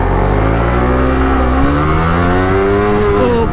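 A Suzuki GSX-R150 motorcycle engine pulls hard during a top speed run, its loud, steady drone climbing in pitch as it accelerates through the gears, with no voices over the close engine roar.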